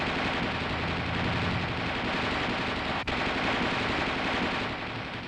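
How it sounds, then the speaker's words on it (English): The coaxial machine gun on an M551 Sheridan tank fires in long bursts of 20 to 25 rounds: a loud, steady, rapid rattle of shots with one brief break midway. "The gunner continues to fire in 20 to 25 round bursts"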